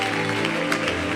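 Brief burst of congregation applause at a church prophecy service, a dense wash of clapping hands filling the moment.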